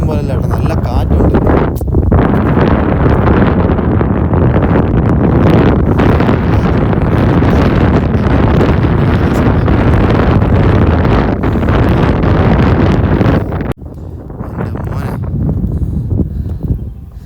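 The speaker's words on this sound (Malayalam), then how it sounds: "താഴെ നിൽക്കുമ്പോഴല്ല കേട്ടോ, നല്ല കാറ്റുണ്ട്" Strong wind on the Thangal Para hilltop at Vagamon roars and buffets the microphone with loud, continuous rumbling gusts, easing briefly near the end before picking up again.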